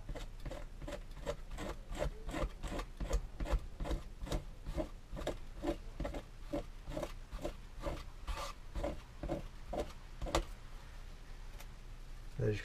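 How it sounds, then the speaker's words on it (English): Residue is scraped off a truck surface with a hand tool in rapid, rhythmic rasping strokes, close and fairly quiet, with no talking. "And you can just scrape it away."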